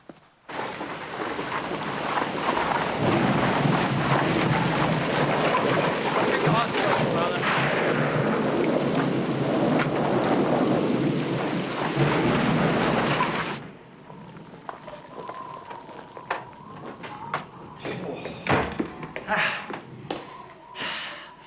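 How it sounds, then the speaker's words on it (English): A night thunderstorm brings loud, steady, broadband rain and rumbling thunder that run for about thirteen seconds and then cut to quieter sounds with voices. "I was halfway here when the storm broke."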